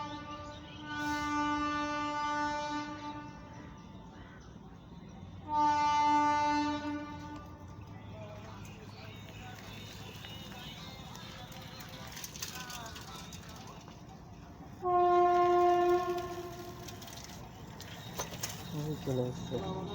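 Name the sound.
train passing railway gate, sounding horn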